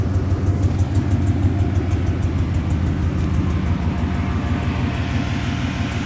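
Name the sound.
Mustang exhaust with Valvetronic mufflers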